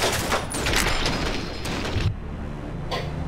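Rifle gunfire in the Fallout: New Vegas video game, with loud, dense bursts of shots and booming reports filling the first two seconds, then a quieter gap and one more brief burst.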